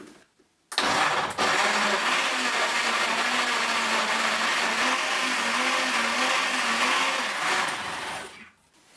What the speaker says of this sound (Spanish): Ahora solo tienes que licuar todos los ingredientes y disfrutar de tu delicioso batido.